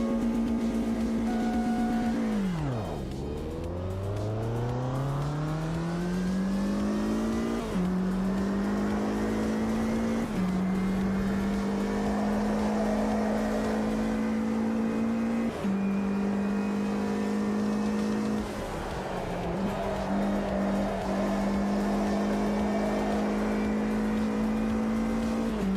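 Race cars in the sim racing game Automobilista 2: one engine note drops sharply, then climbs repeatedly through the gears, each shift marked by a brief dip. Loud and continuous for the whole stretch, with faint rival cars and no talk.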